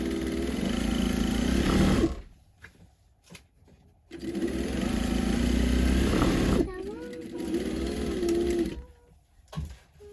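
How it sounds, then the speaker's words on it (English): A sewing machine stitches the side seams of a fabric tote bag in two loud, close bursts of rapid whirring hum, separated by quiet pauses with fabric handling, and resumes briefly at the end. "So I'm just going to sew the 2 sides, so here, and I'll do the same thing for the lining fabric as well."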